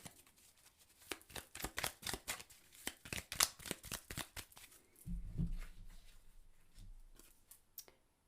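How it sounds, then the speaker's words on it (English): Tarot cards being shuffled by hand in a quiet room, a rapid run of crisp riffling snaps and flutters followed by softer handling and a low thump as the deck settles. "So let's pull a clarifying card for more information."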